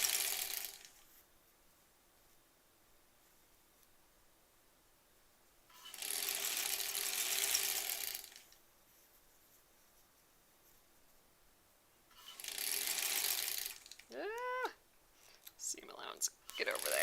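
A sewing machine stitches a quilt seam in two bursts of loud, whirring mechanical running separated by quiet pauses, followed by brief clicks and squeaks.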